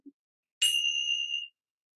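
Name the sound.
ringing bells in a children's yoga class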